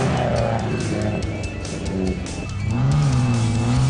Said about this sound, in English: setting off on their buggy, again powered by a 2-litre engine